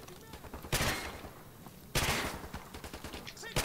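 Gunfire in Modern Warfare Remastered prop hunt, aimed at tires: two loud, sharp shots about a second apart, each with a ringing tail, then a quick run of lighter cracks and clicks.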